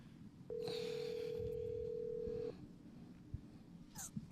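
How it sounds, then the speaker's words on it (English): A telephone dial tone sounds steadily for about two seconds as a call is placed, followed by a few faint clicks and beeps of dialing, with low room noise and murmuring around it. "Maybe just call Nick and get him on the phone."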